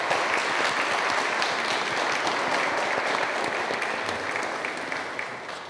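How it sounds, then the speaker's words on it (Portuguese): A church congregation at a Mass applauds the grandparents, a dense, steady wash of many hands clapping that fills the space throughout, slightly easing toward the end. "Uma salva de palmas aos avós."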